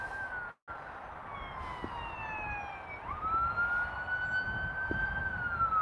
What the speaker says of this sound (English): There's an ambulance trying to work its way through.